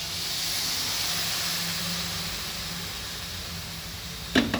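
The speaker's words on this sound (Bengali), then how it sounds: "এবার এতে দিয়ে দেব সামান্য একটু গরম জল" Hot water poured into a covered pan of frying cauliflower and potato hisses in a steady, fairly quiet rush of steam, fading slightly, then ends with a short clatter.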